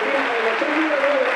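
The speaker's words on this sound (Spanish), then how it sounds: "Aplausos, ¿eh?, para uno de los jugadores." A stadium crowd applauds during a football substitution, a brief dense burst of clapping with a commentator's voice running over it.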